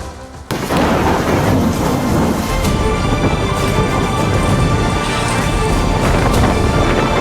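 Heavy rain and rolling thunder from a cyclonic storm, a dense continuous roar after a brief quiet start, loud and close with low rumbling booms throughout and no voices.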